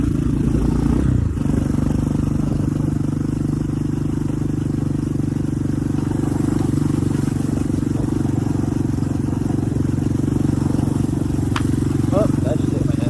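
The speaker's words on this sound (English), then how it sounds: "Yeah, I'm just in fourth gear, putting around." A Titan 250 pit bike putts along a dirt track in fourth gear, its engine a steady, close, moderately loud drone for the whole stretch, with a brief clatter near the start.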